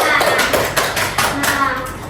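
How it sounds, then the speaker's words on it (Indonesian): Students in a classroom clapping for a classmate after a maths answer, a short burst of close, uneven claps and taps with voices mixed in. "Beri tepuk tangan untuk Najma."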